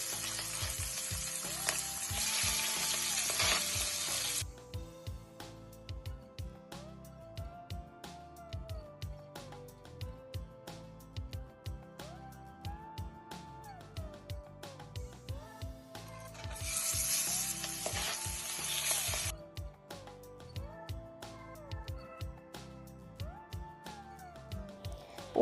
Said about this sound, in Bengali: তেল গরম হয়ে গেলে সব মাছগুলো এক এক করে ভেজে তুলে নেব